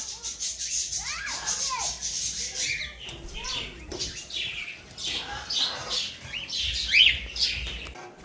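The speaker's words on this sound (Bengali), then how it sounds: "এগুলো ম্যাকাও।" Macaws and other parrots at a bird farm squawk and chirp in overlapping bursts while people talk nearby.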